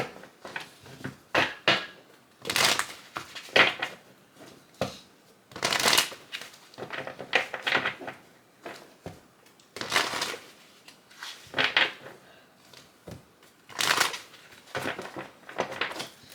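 Tarot cards being shuffled by hand in repeated riffling bursts, a brisk papery flutter that starts and stops irregularly at close range with no talking.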